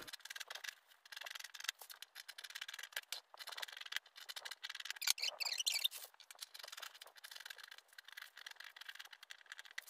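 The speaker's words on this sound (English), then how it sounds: "So this is it. Okay, so we can go ahead and cut it." Scissors slice through a paper corset pattern for a plus-size design, producing faint, uneven snipping and rustling scrapes that run almost continuously, quiet and close.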